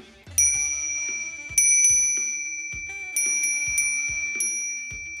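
A recorded bear-deterrent bell rings high and bright in a series of repeated strikes, each leaving a sustained metallic tone that slowly decays. It sounds clear and fairly loud, with no voices.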